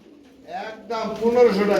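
Pet pigeons kept in crates by a breeder selling breeding pairs coo in a short, rising call, close and moderately loud, with voices talking over the birds.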